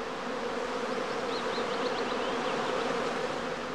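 Honeybees swarm at a heather skep apiary, a dense continuous buzzing drone of many insects, loud and close throughout, with faint higher chirps partway through.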